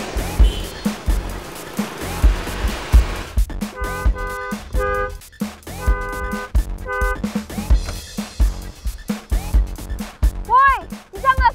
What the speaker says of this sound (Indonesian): Woi, bisa nggak sih nggak usah klakson-klakson?